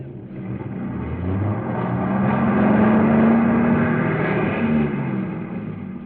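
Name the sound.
car engine revving, stuck in a ditch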